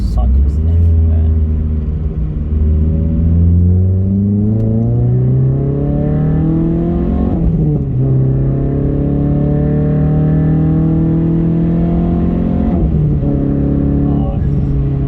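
A Renault Clio MK3 RS200 engine pulls hard on a track, rising steadily in pitch through the gears with a brief dip at each shift, loud and close throughout, while people talk over it.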